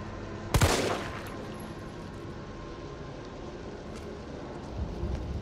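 Gunfire at an enemy in the Resident Evil 3 video game: one loud, sharp shot near the start, followed by a steady low game ambience and a faint thump near the end.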